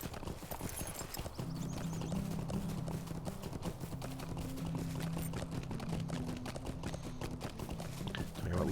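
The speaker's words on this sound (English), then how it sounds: "So let's jump on our horse." Hooves of a horse ridden in Lord of the Rings Online, a steady fast clip-clop gait with a soft low hum beneath, moderately close and continuing throughout.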